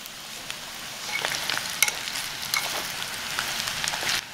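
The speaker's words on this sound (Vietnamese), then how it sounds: "Khi hành tỏi đã dậy mùi thì mình cho luôn phần thịt ba rọi vào. Đảo đều cho thịt được áo đều hành tỏi" Pork belly stir-fries with shallots and garlic in a pot, giving a steady soft sizzle and frying crackle with occasional scraping stirs throughout, no talking.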